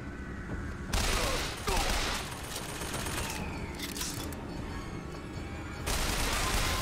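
Burst-fire weapon in BioShock Infinite on PC, several loud rapid volleys of gunshots separated by short pauses, close and dominant over a low game background.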